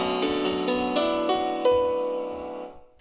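A sampled Kontakt grand piano plays in the right channel. Six struck notes fall in a steady rhythm, each ringing over the last, and then fade in a long sustained decay. The sound is close and clean, with no talking.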